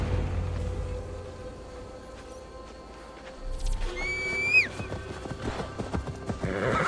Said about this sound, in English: I feel as if I've ridden my horse through a door to another world.